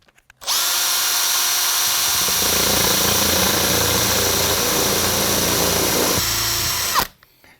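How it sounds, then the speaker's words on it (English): A power drill bores steadily through ceramic tile, a loud continuous whine that holds for about six seconds and then stops abruptly. "once I turn that around and it starts to rotate, it'll start to drill into that"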